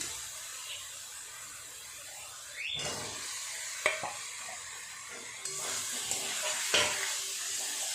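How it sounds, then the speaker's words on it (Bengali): Fried potatoes stirred into masala in a pan for bhetki fish kalia, a low steady sizzle with occasional spatula scrapes and a few sharp clinks against the pan, close by and without talk. "আলু দিয়ে খুব ভালো করে মশলার সাথে এইভাবে কষিয়ে নেবে"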